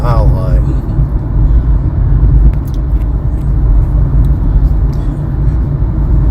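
A car on the road late at night, heard from inside as a loud, steady low rumble of engine and tyres, continuous with no break.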